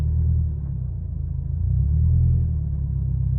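A large car idles low at about 500 RPM through a newly installed stock exhaust, replacing a Nameless exhaust. A deep, steady rumble stays close and even throughout, with no voices.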